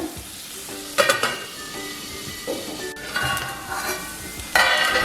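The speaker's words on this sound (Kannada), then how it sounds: "ಸ್ವಲ್ಪ ಇದು ಸಾಫ್ಟ್ ಆದರೆ ಸಾಕು ಬೇಗನೆ ಸಾಫ್ಟ್ ಆಗಿಬಿಡುತ್ತೆ ಈ ಕುಂಬಳಕಾಯಿ ನೋಡಿ ಇನ್ನೊಂದು ನಿಮಿಷ ಬೇಯಿಸ್ಕೊಳ್ಳೋಣ" Pumpkin pieces softening in a hot pan for pumpkin chutney, with a soft sizzle under repeated stirring scrapes and occasional sharp clinks of a spoon against the pan, close and fairly loud, with no voices.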